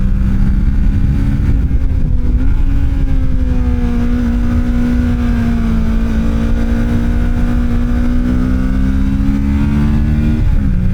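A Kawasaki Ninja 650 motorcycle rides along steadily with a loud, continuous engine drone, rising and falling slightly in pitch through gear and throttle changes, with no talk over it.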